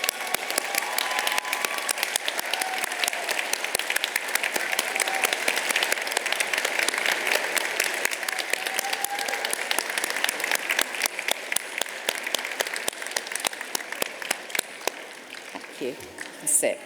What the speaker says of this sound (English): it's your turn to give them the big wave and the huge round of applause